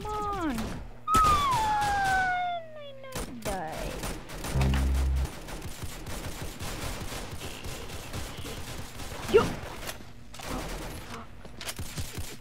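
Rapid bursts of gunfire from a gun in the Roblox game Arsenal, mixed with other game effects and a brief siren-like tone, with a person talking over it.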